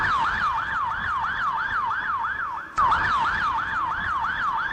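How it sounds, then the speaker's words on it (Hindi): An ambulance siren wails in a steady, rapid rising-and-falling cycle, loud and close, with a brief dip in volume about halfway through before it resumes at full strength. No voices are heard. "एम्बुलेंस"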